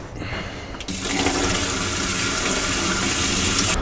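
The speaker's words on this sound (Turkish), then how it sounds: "Kartuşumu boşaltmak için boşaltım ağzının tapasını çıkarıyorum ve boşaltıyorum." Waste pours in a steady, loud gush from the drain spout of an emptied cassette toilet cartridge, a continuous rushing splash that starts up strongly about a second in and runs without pause.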